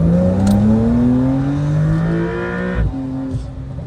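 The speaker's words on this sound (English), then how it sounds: "All right, let's do an acceleration." Engine of a 2024 BMW M4 or Porsche 911 pulling hard under acceleration, a loud rising drone climbing through the gears with a shift break near the end, no talk over it.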